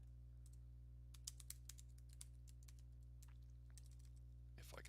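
Someone types a comment on a computer keyboard, a run of irregular light key clicks over a steady low electrical hum, ending in a quick flurry of keystrokes.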